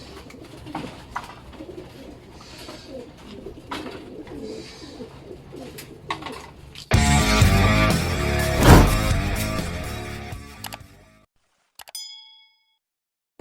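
Racing pigeons, stock cocks and hens, coo softly at a loft during a race released from Laoag, Ilocos Norte. A louder stretch of clanging and metallic dings follows, then a few sharp ringing tones and near silence.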